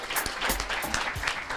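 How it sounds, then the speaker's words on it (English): Audience applause at a black tie business and professionals gala greets the evening's MC, a short burst of dense clapping from a crowd, moderately close and steady, with no talk over it. "Can we have a nice round of applause for our MC"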